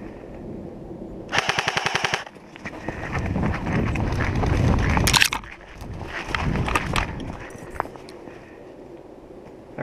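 An airsoft gun fires a rapid close burst outdoors during an airsoft game, followed by rustling footsteps and movement through brush.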